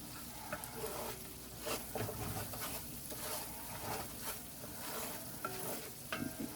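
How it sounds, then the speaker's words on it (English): Flour being stirred into a pot of beef stew: a quiet, continuous scraping and bubbling swirl of the spoon through thick liquid. "just stir it around"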